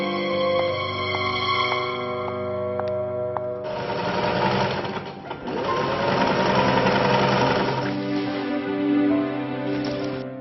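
A sewing machine stitches clothes with a loud, continuous motor whir and hum that shifts to a denser, busier running sound partway through.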